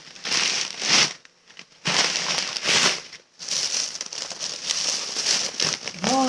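A plastic bag of vermicelli noodles is handled and squeezed, giving loud, close crinkling bursts that stop for brief pauses and then start again, with a soft rustle at the very end.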